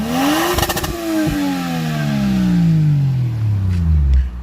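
A Toyota GS300 with a 1JZ-GTE VVTi turbo engine is revved hard and close, with a rattling burst near the peak. The pitch then winds down slowly in a long descending drone, with turbo whooshes and flutter as it settles.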